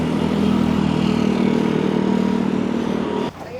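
Motorcycles and sedans pass on a street in Cebu or Bohol during Typhoon Tino, making a loud, steady engine drone that stays close and even before cutting off abruptly near the end.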